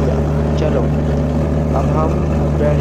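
A train engine in the Rajdhani Express video game runs at full throttle, a steady loud low rumble with a constant hum that continues throughout.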